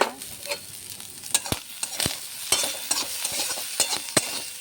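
Small fish sizzle steadily in hot oil with turmeric and salt in a pan, with sharp clacks of a spatula stirring and turning them at close range.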